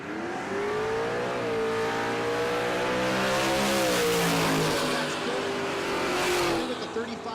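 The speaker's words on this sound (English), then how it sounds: "Keith Horton in the left lane. The Nova, a bow tie built LS motor." Chevrolet Nova drag car with a bow tie built LS engine and no power adders, racing at a drag event: a loud, sustained engine roar with rising harmonics as it revs and pulls, under commentary from an announcer.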